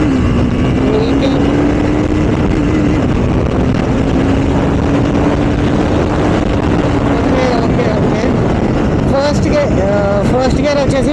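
A Triumph motorcycle accelerates through its gears, its engine droning loud and steady with rising pitch amid heavy wind buffeting on the microphone.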